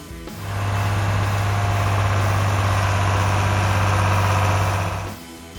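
The 6-cylinder, 404 cubic inch diesel engine of a John Deere 4020 tractor starts up and runs at a steady, loud, low idle for about five seconds, then cuts off.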